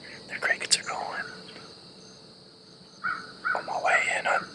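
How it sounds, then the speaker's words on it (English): Crickets chirp and birds call in morning woods by a river during deer hunting in Maryland. A steady high insect drone runs throughout, with brief bird calls in two short bursts, fairly faint and with no talking. "Geese are flying, ducks are swimming, birds are chirping, the crickets are going."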